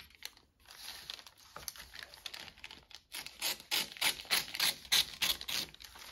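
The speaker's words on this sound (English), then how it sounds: "We also need to take this envelope apart." A paper envelope being pulled and torn apart, close rustling and crinkling that grows into a series of sharp rhythmic rips and scratches, with no talking.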